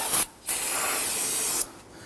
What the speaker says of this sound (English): we're going to go ahead and clean off this unit using some spray solvent.